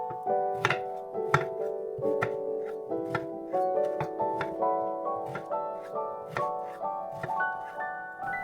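A knife chops persimmon into large pieces on a board, giving a steady series of crisp, close thuds at an uneven rhythm, while faint background music plays underneath.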